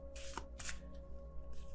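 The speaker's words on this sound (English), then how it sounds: "I love this deck, but it's really hard to shuffle because it's really big." A large, oversized tarot deck is shuffled by hand, two brisk riffling bursts followed by a softer shuffle near the end, close and clear against a faint steady hum.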